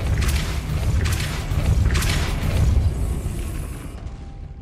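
The Depulso spell is cast in a Harry Potter video game, producing loud booming blasts and bursts that repeat over a steady low rumble before fading near the end.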